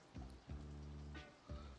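Rain in the video game Two Point Campus, a soft, steady patter of falling drops heard faintly in the background with a few low tonal game sounds layered over it.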